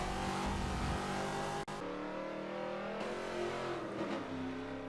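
A 1971 AMC Javelin AMX muscle car engine roars at high revs on track in Forza Motorsport 7, loud and steady, with a brief cut around a gear shift and pitch shifts as the car accelerates.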